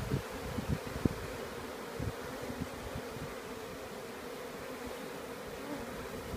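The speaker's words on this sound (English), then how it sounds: "I had a small cluster of bees down here on the grass." Low, continuous buzzing of a honey bee swarm with a few soft thumps and rustles near the start, fairly quiet and without speech.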